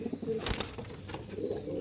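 Pigeons kept for breeding and sale coo softly amid light wing flutters and background noise, a steady low murmur with a brief broadband burst partway through.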